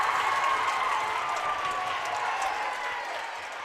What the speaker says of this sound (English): you hear the crowd on every point